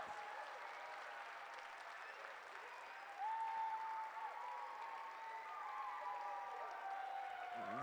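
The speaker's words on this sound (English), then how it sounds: "Let's hear a real loud of applause for these individuals of ours." Steady applause from an audience at a school function carries on throughout, a dense wash of clapping with a faint tone emerging partway, no speech.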